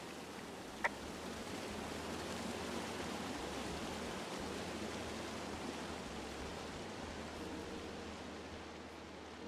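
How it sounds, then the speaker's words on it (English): Steady, broadband rush of a waterfall in the game Firewatch, a constant wash of falling water heard alone with one brief click near the start. "It's a really nice waterfall down here."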